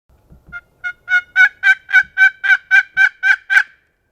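Wild turkey longbeards gobble at close range during a hunt, a loud rapid run of about a dozen evenly spaced, rattling calls building in strength, with a few low thumps before them.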